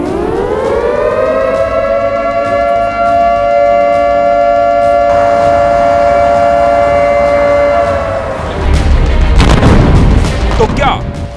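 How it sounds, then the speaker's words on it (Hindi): A wailing air raid warning siren sounds in a war zone, holding a steady tone for several seconds before heavy booming explosions and crackling debris break in near the end. "खतरे का सायरन बज रहा है।"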